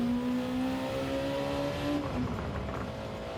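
A race car engine in a racing video game at the Nurburgring holds a loud, steady drone, its pitch sliding as it accelerates and shifts, continuous from start to finish with no talking.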